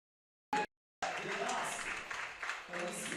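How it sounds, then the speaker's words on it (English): A crowd at a women's freestyle football championship applauds; a brief burst is followed by steady clapping and cheering that swells and fades, with a commentator talking over it. "the crowd gives some support for the girls"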